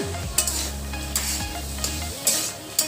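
Tomatoes and green chillies being stirred into frying spices for Bengali-style vegetarian cabbage curry, a steady sizzle punctuated by several rhythmic spatula scrapes against the pan.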